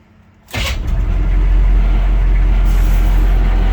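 Diesel engine of a 1985 military K5 Blazer catching almost instantly after a brief crank, then settling into a loud, close, steady rumbling idle.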